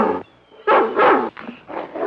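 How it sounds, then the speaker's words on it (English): Dog barking and growling in a 1950s horror film scene, a few harsh close barks in quick succession with a brief pause between, loud and alone without talk. "Oh, that dog, he gives me the jitters."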